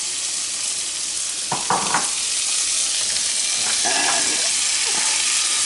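Onions, peppers and celery fry in a pan on medium-high heat for shrimp creole, giving a steady close sizzle with a few stirring scrapes, and one short spoken word over it.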